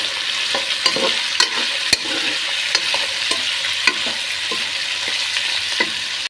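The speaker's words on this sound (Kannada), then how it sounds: "ಇದಾದಮೇಲೆ ತರಕಾರಿನೆಲ್ಲ ಹಾಕ್ಕೊಳ್ಳಿ. ಹಾಕಿ ಚೆನ್ನಾಗಿ ಮಿಕ್ಸ್ ಮಾಡಿ." Mixed vegetables and softened tomato frying for veg pulao, stirred in a pan: a loud, continuous sizzle with regular scraping strokes of the spoon, close and steady with no talk.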